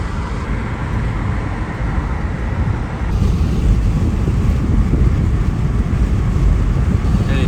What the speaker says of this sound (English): driving towards Jabal Uhud right now